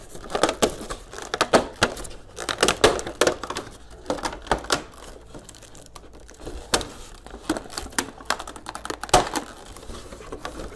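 Packing tape is torn off a cardboard box holding a Master Stars Piece Son Gohan "Chocolate" figure, giving a run of sharp, crackling rips and crinkling bursts in quick irregular succession, close and fairly loud.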